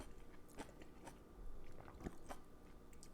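Close-up crunching and chewing of kimchi, made with cabbage, during a meal with soju, with a few crisp bites scattered over roughly three seconds; no talking.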